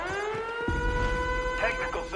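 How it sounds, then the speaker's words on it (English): An alarm siren wails in the video game Predator Hunting Grounds as a loud, steady, even tone that holds throughout, with a low thud early on and a voice briefly over it near the end. "Detected the trigger alarm."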